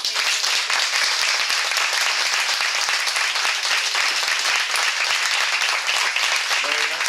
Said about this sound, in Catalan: li donem primer les gràcies, un fort aplaudiment